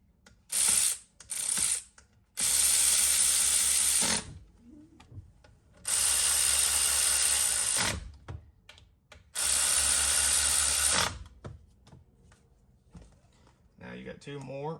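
T30 Torx driver tightening shifter strap screws on a Ford E-series van, with three long bursts of loud, rapid ratcheting under short pauses, plus a few brief clicks, and a voice speaking between bursts.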